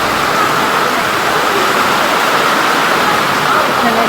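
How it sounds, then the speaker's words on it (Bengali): Heavy rain falls outside a window as a loud, continuous broadband rush with no breaks. "ভালোই জোরে বৃষ্টি হচ্ছে, অনেক জোরে।"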